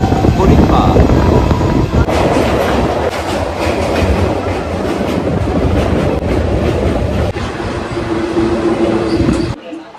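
Indian passenger train, the 13187 Maa Tara Express, rolling along the rails between Naihati and Bolpur, with a steady loud rumble and rhythmic clatter of the carriages throughout, and voices faintly audible inside the coach.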